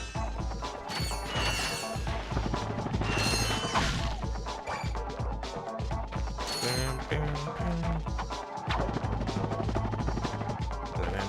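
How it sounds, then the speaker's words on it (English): Crates being smashed in the Ratchet & Clank video game, a dense, loud run of crashing, clanking and whacking hits over busy mechanical game sounds and music, with no pauses. "Here, smashing the crates."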